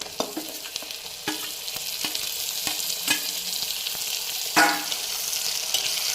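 Tomato sizzles in a pan with onion and ginger-garlic paste for an egg rice dish, a steady close frying hiss broken by repeated spatula taps and scrapes and one sharper splash of sizzle, with no talking.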